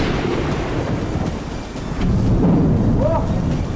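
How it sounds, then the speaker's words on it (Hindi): Thunder rumbles loud and close through heavy rain in a rocky outdoor place. The steady downpour hisses underneath the whole time, and a deep roll swells near the end. "बादल बहुत तेज गरज रहा है।"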